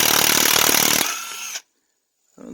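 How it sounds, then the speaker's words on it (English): A cheap Chinese impact wrench runs loudly for about a second and a half, a dense broadband whirr that drops off and then stops, followed by silence and a brief restart of noise. "I'm using a Chinese cheap impact"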